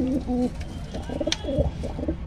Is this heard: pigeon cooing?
yes